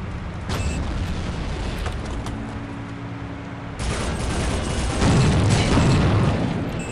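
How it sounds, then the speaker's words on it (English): Grenade blast in the Soldier of Fortune shooter game, a sudden loud burst followed by rumbling debris and a second swelling explosion, all close and dense over steady background noise with no talking. "I just want to chuck a grenade up there."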